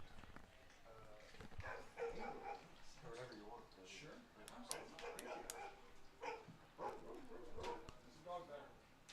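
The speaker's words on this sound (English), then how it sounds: "I think it's really a dog just barking" A dog barks in short bursts somewhere near a baseball championship game, the barks mixed into ongoing commentary and crowd noise.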